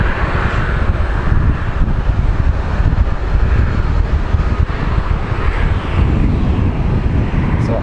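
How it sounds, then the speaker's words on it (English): A Spirit Airlines jet departs for Dallas Fort Worth from Phoenix Sky Harbor, its engine roar a loud, steady broadband rumble mixed with wind buffeting the microphone, with no talk. "So off to Dallas Fort Worth as this Spirit Airlines."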